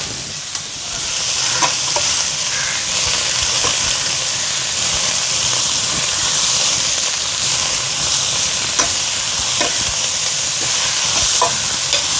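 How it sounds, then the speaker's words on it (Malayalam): Spinach frying in a pan is stirred after salt goes in, giving a loud, continuous hissing sizzle with a few faint scraping clicks from the stirring and no voices. "ആവശ്യത്തിന് ഉപ്പും ചേർത്ത് നമുക്ക് ഇളക്കാം കേട്ടോ"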